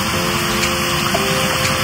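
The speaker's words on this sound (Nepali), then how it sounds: "मिनी झर्ना नि रहेछ त यहाँनिर झर्नै झर्ना छ" A small artificial waterfall in a garden pours in a steady, even rushing wash of falling water, close and continuous with no break and no voices.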